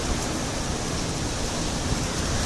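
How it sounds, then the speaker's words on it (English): Strong wind roars steadily during a dust storm in Arizona, a loud, continuous broadband rush with no breaks, alone and close to the microphone. "It's really dusty and stormy and windy."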